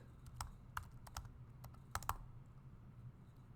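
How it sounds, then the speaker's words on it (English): Soft keystrokes on a computer keyboard during CAD modelling work in Fusion 360 come in a faint, irregular scatter of single taps and quick pairs, with no voices. "So E on my keyboard for extrude."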